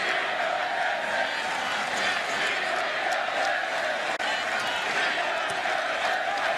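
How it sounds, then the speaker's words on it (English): A packed football stadium crowd at the 2012 Big 12 Championship game between Kansas State and Texas chants and roars in a continuous loud wash, with voices blending into a sustained collective din. "the chants in the crowd here are "We own Texas," because they're on their way to their 5th straight win over the Longhorns"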